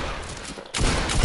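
A rapid burst of video game gunfire, loud and dense, breaking off briefly before a second sustained volley.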